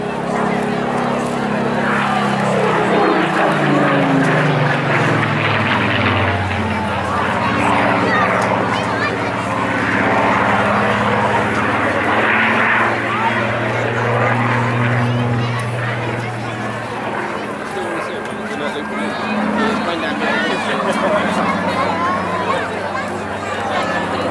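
Rolls-Royce-engined aircraft flying over the Clacton Air Show, its engine drone rising and sweeping past with a gliding pitch change, heard loudly under a commentator's voice and crowd murmur.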